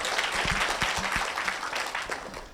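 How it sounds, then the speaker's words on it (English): Audience applause for a guest speaker at an international economics and business conference, steady dense clapping throughout with faint voices mixed in. "Please give a round of applause for Pak Andi."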